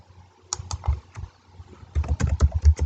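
Close-up typing on a computer keyboard, two short bursts of quick, uneven key clicks separated by a brief pause, crisp and alone with no talking.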